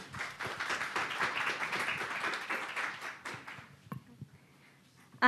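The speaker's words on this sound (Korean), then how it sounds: "큰 박수 부탁드립니다" Audience clapping at an architecture policy idea competition award ceremony, a steady round of moderate applause that fades out after about four seconds, followed by a few isolated taps.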